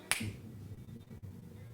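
A single sharp finger snap rings out near and clear, followed by a brief low room rumble with no voices.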